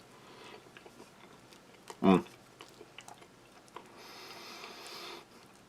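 Fruit muesli with apple and soft oats from a Dutch army 24-hour ration being eaten, with one loud close crunch or bite and quieter, scattered chewing under faint background hiss.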